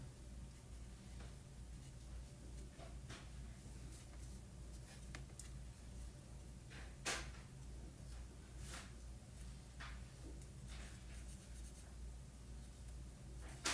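Hand colouring on a paper card for a birthday card craft: a soft, continuous scratchy rubbing of coloured pencil or marker strokes, close and quiet, with occasional sharper tap-like strokes and no talking.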